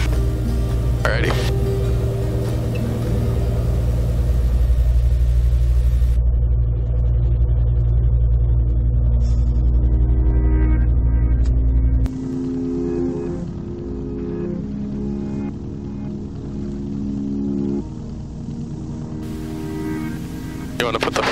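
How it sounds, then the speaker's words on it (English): A Beechcraft Bonanza P35 engine drones steadily while taxiing, a loud low hum that shifts partway through. Cockpit voices talk over the engine. "Bonanza 61 Juliet Charlie's taxiing to runway 31 Baltic"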